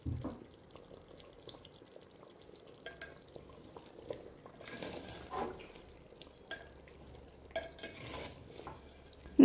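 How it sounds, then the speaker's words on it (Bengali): Chicken cooking in a covered handi pot gets stirred once the lid is lifted: faint, scattered scraping and clinks of a spoon against the pot over a low bubbling simmer, quiet and intermittent. "কিছুক্ষণ পরে আবার একবার ঢাকনাটা খুলে নেড়ে দেব।"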